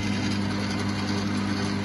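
A Myford lathe runs with the power feed engaged, giving a steady mechanical hum with a faint whine that stays constant and close, with no talking.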